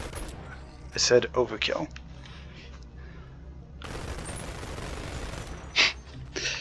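Two SMGs fire together in the VR game Boneworks, short bursts and then a dense sustained stretch of rapid shots, with someone talking over parts of it.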